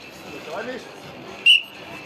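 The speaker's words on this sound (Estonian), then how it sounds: "vile kõlas" A referee's whistle gives one short, sharp blast at an outdoor strongman competition, cutting through low crowd murmur.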